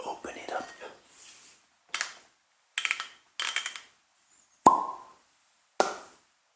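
A cork pulled from a bottle of Ledaig 10 whisky, heard close up as a crisp pop, with a second sharper plop shortly after, among soft rustling handling sounds following a brief whisper.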